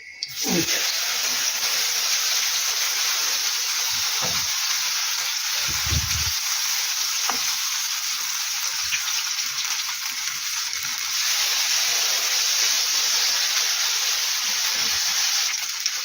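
Potato pancakes sizzle and crackle steadily in hot oil in a pan, with a few soft knocks and scrapes of utensils.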